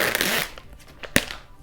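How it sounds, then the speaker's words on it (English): Close tearing and crinkling of a pull tab being opened on a cosmetics package: a dense, loud rip for the first half second, then scattered light crackles and one sharp snap near the end. "There is a pull tab. So let me just get a hold of this pull tab."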